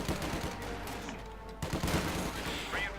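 Busy combat from Company of Heroes 2, with MG42 machine gun fire mixed into a dense fusillade of gunshots and explosions, continuous and loud across the whole stretch with some bursts standing out.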